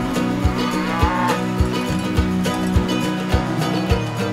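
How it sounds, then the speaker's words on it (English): Cows on an Irish dairy farm lowing in long, loud, close moos over steady mechanical background noise with regular rhythmic thumps. "They're happy cows, yeah."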